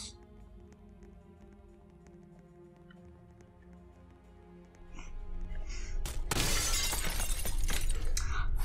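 Glass shatters loudly in the Roblox game Cursed Islands, a sudden bright crash that follows a rising rumble and leaves a noisy spray of fragments, with game music faintly underneath.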